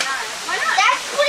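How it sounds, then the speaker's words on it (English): A hidden waterfall somewhere out of sight gives a steady rushing wash of water, heard briefly as a close, even roar with no other sound over it. "there's a waterfall back there"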